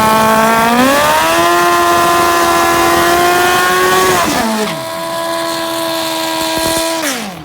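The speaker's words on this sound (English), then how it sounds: "Naturally-aspirated motorcycle versus a nitrous oxide one." Two drag racing motorcycles, one naturally aspirated and one nitrous-fed, scream at high revs, pitch climbing as they accelerate hard, then a gear shift and another sustained rising howl; loud and close.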